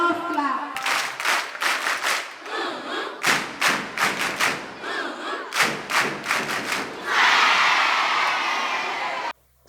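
A school audience performs a rhythmic love clap, a series of loud, sharp group claps in a patterned beat with brief pauses between bursts, followed by a swell of cheering and applause that cuts off abruptly.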